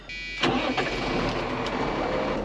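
A White farm tractor's engine cranks and catches, then settles into a steady, close idle that rumbles on without pause.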